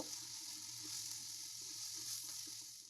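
Ground peanut paste sizzles softly in a pan for an onion fish curry, a steady quiet frying hiss with a few faint stirring scrapes, no voices.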